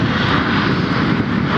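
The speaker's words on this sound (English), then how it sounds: "in a 1-year-old A321 Neo jet. There's your firm touchdown." A one-year-old Airbus A321neo jet makes a firm touchdown at Fort Lauderdale airport, its engines giving a loud, steady roar heard close by without interruption.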